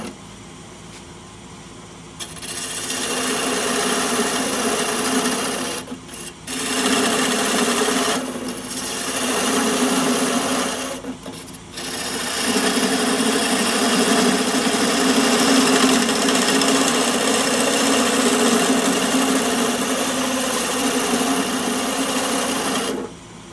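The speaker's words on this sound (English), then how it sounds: "I will bring you back just as soon as I get through sharpening" Sharpening a dull bowl gouge for woodturning, a steady abrasive grinding hiss in several long passes separated by brief pauses, fairly loud and close with no talking.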